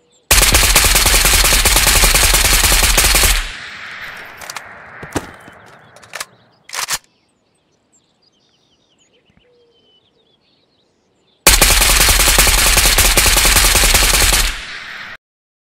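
Rapid automatic gunfire from a weapon fitted with a Halo Grip in the VR shooter Ghost of Tabor, heard as two loud sustained bursts of about three seconds each, separated by scattered single shots and a stretch of near silence.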